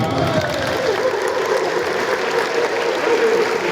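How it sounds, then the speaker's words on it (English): Steady, dense applause from a crowd fills the space without a break, loud and sustained throughout. "You deserve another round of applause."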